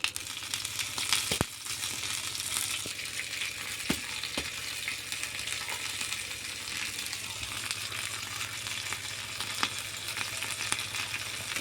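Soft gima greens fry in oil in a pan, cooked village style, giving a continuous close sizzle with a few sharp clicks of stirring and no talking.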